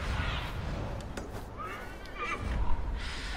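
A horse in Assassin's Creed Valhalla gives a shrill, wavering neigh over steady ambient game background, with a few muffled hoof thuds.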